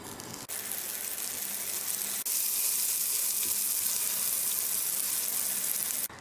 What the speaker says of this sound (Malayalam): അതിലേക്ക് 2 ടേബിൾ സ്പൂൺ ബട്ടറും കൂടി ചേർത്ത് കൊടുക്കുക.